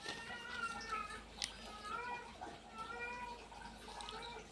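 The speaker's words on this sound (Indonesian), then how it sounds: "Tadi kucing yang meow itu." A cat meows several times indoors, rising and drawn-out calls repeated over a steady background hiss, with a person's voice faintly underneath.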